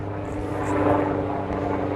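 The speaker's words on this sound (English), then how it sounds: "helicopter going over." A helicopter passes overhead as a steady rotor and engine drone, moderately loud and continuous throughout.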